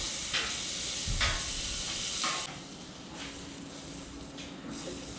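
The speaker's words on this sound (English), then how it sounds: "First, we're going to put a little bit of butter on our griddle" Butter sizzles on a hot griddle before smash burgers are fried, a dense close hiss that drops to a softer, steadier fizz halfway through, with no talking.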